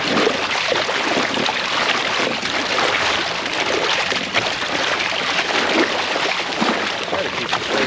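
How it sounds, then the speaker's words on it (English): A small solar-powered kayak pushes straight into waves off Magnolia Beach, with loud continuous splashing and rushing water around the hull throughout. "I think we're straight into the waves now"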